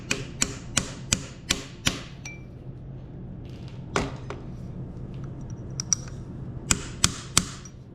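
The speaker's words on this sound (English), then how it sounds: "Just a punch and a hammer." Sharp metallic hammer blows on a punch during maintenance of a 2016 Honda CRF230F dirt bike, a quick run of five taps, then isolated strikes and a final cluster, close and clear over quiet room noise.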